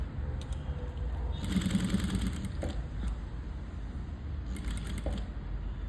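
A sewing machine stitches a blouse in a boutique, fitted with a normal presser foot, its motor running in steady whirring bursts at close range, pausing briefly between runs.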